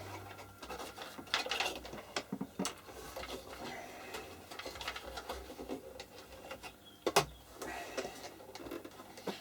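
Screws being backed out of a Ferguson 342-BU portable radio, heard as close, faint, irregular scraping, creaking and small metallic clicks, with one sharper knock.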